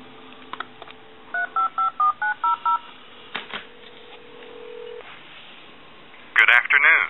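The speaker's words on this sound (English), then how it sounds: "I'm going to take a tone dialer and we'll call a time and temp number." A tone dialer plays a quick run of about eight evenly spaced DTMF beeps into a converted TA-1 military handset telephone, followed by line clicks, a faint tone and a brief voice at the end.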